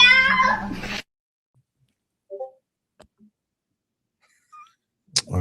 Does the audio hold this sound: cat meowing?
yes